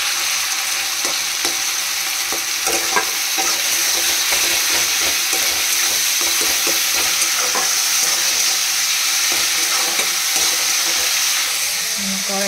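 Tomato and cabbage frying in a wok (kadai), a constant close sizzle with a busy rhythm of spatula scrapes and clinks as the vegetables are stirred, no voices over it.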